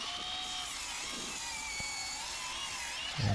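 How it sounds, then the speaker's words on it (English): A miter saw squaring up a cut workpiece during a lost-wax bear skull build, heard as a steady, loud high-pitched whine that runs throughout, with a low thump near the end. "now we're cutting it on the miter saw"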